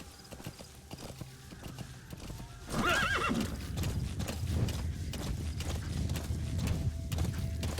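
A horse whinnies loudly in a video game, then hooves clatter in a quick, rhythmic gallop that continues steadily, fairly close.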